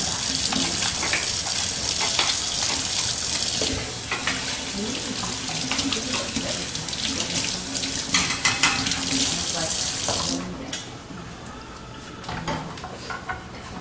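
Kitchen tap water runs steadily into a sink while hands are rinsed and washed, a loud close continuous gush that thins toward the end, with faint clatter around it.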